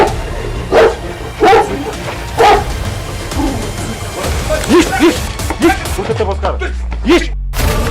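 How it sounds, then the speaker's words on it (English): Caucasian Shepherd dogs wrestling, giving several loud barks and yips at irregular intervals over a constant rough scuffling background, close by. "Caucasian Wolfhound."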